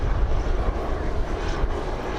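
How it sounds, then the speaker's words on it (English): A police helicopter passes over a New York City beach with a steady, loud engine and rotor drone that stays level throughout, with no voices. "the police chopper kept passing by"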